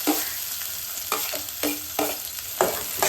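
Sliced onions and curry leaves fry in hot oil with popped mustard seeds for a jackfruit-seed fry. A steady, close sizzle runs throughout, broken by several stirring scrapes at roughly even intervals, with no talking.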